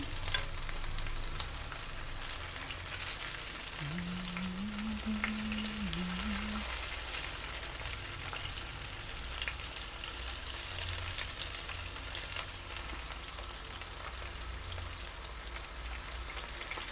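Okra masala (ladies finger) fries in oil in a pan over a medium flame, giving a steady, close hiss of sizzling that barely changes, with a brief low hum partway through and no speech.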